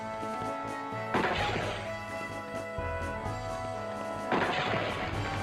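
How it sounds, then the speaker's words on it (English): A high-powered rifle fires in the mecha video game Remote Control Dandy: two heavy booming shots a few seconds apart, each with a crashing burst and ringing tail over a steady droning game score. "High-powered rifle they gave this kid"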